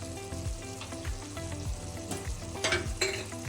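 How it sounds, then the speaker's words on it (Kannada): Ingredients frying and being stirred in a pan for North Karnataka mandakki oggarane, the puffed-rice dish, with a steady close sizzle and bursts of spatula scraping and clatter throughout, no talking. "ಸ್ವಲ್ಪ ಸಾಫ್ಟ್ ಆಗೋ ತನಕ ಫ್ರೈ ಮಾಡ್ಕೋಬೇಕು."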